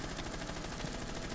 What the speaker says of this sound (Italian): adesso ci sparo una bella kill